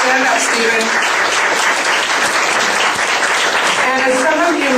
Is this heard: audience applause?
yes